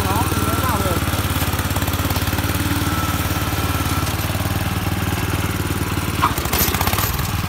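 A Japanese mini dump truck engine runs steadily at a low, throbbing idle while the gearbox is shifted into gear, with a brief clunk near the end, close by and loud, as someone talks over it.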